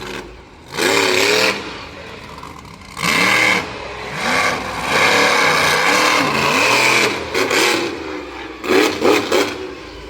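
A monster truck engine revs hard during a freestyle run at a Swedesboro, New Jersey event, loud repeated bursts of roaring and surging over crowd noise and arena ambience.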